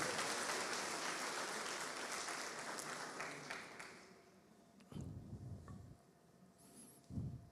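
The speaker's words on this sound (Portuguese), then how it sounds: "Vamos aplaudir o Senhor porque Ele faz essas coisas." Church congregation applauding during a Portuguese sermon, a dense rain-like clapping that fades after a few seconds, leaving quiet room noise with a few brief sounds.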